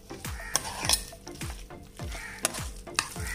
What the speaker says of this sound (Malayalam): ഇതെല്ലാം കൂടെ നല്ലതായിട്ട് മിക്സ് ചെയ്യാം.